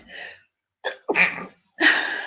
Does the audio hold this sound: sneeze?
yes